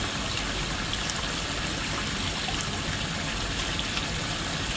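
Water rushes steadily through the cells of a gold panning sluice in a basement, a constant close dense wash with no pauses.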